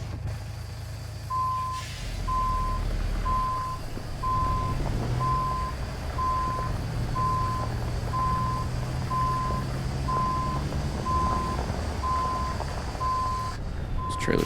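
A truck in American Truck Simulator, pulling a trailer, backs up with a steady reversing beeper pulsing at a regular rhythm over a constant low engine rumble, and a short hiss near the end.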